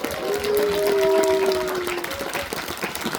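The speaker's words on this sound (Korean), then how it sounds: "큰 박수와 함성을" Audience applause and cheering at a book launch event for a former provincial councillor, clapping with sustained tonal cheers or horn-like notes rising early, then easing into scattered claps.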